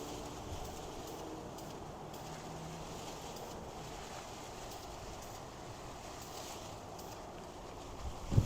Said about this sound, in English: Wind picked up, it's getting a little crazy